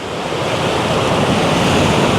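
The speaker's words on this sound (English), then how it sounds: "and the waves hitting the rocks, the seashore here." Sea waves wash against the rocky shore of a natural pool near Qrendi, Malta, a steady, loud, close roar of surf and spray with wind buffeting the microphone and no talk.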